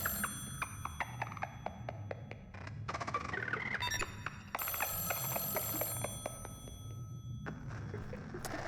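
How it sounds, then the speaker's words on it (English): A telephone rings in the video game Echostasis, a loud electronic bell trilling in repeated bursts over a low ambient game backdrop, with no talk. "Phone rings."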